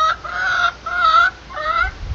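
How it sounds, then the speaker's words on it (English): Chickens clucking in a coop early in the morning, three drawn-out nasal calls from close by, loud and alone. "chickens wake up pretty early in the morning"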